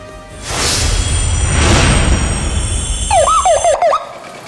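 A whooshing pass gives way to a short warbling motorcycle siren yelp, rising and falling quickly a few times, loud and nearby.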